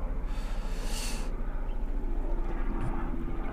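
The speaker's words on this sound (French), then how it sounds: "Oui, hélicoptère à côté." A helicopter passes nearby over a city area close to a hospital, a steady rotor and engine drone lasting throughout at moderate level, with a brief hiss burst near the start.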